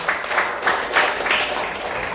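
A crowd at a girls' mentorship forum in the Gambia gives a short round of applause, a fairly loud, even patter of many hands with slight surges, lasting about two seconds without talk.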